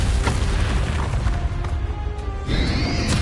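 A Confringo blasting spell explodes during a dragon fight in Hogwarts Legacy, a single loud, close boom and crash with a rushing whoosh, then a brighter burst near the end.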